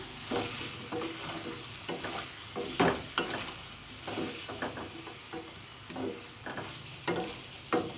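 Powdered spices being stirred into chicken jalfrezi in a pan, with repeated scraping strokes of a spoon in an irregular rhythm over a soft sizzle, heard up close.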